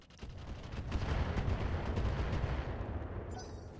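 Mech weapons fire in the RogueTech mod of BattleTech, a dense, loud barrage of gunfire and explosive bursts rolling continuously for several seconds with no talking.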